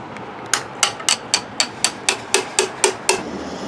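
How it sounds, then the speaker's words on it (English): A hammer strikes metal about a dozen times in a quick, even rhythm, each blow a sharp ringing clank close by, during work with a pry bar on the A/C compressor of a 2011 Hyundai Elantra Touring. "hammer and pry bar"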